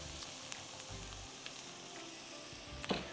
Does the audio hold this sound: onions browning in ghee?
yes